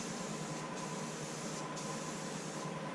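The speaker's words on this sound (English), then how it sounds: "I'm spraying it on." Red spray paint hisses from an aerosol can onto a Christmas stocking pole in one steady, continuous spray, fairly close and unbroken, with two brief dips in the high hiss.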